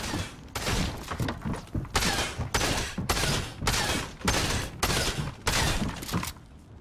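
Rapid volleys of gunfire in the video game Fortnite, a loud, close series of sharp bursts repeating steadily every fraction of a second with no pauses.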